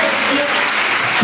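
A church congregation bursts into dense, loud applause and acclaim during a prophetic worship service, a continuous wash of clapping and voices with no break.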